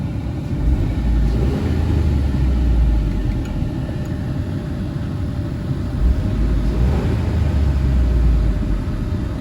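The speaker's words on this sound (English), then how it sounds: "Now that I can rev it a little bit higher" A 2007–2011 Jeep Wrangler engine running warm and held at higher revs, a steady, loud low rumble that swells gently twice, with no talking over it.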